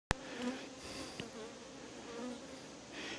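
Honey bees buzz steadily around a hive in a July garden apiary, a continuous mid-level drone of many wings with small swells and fades, with no voices over it.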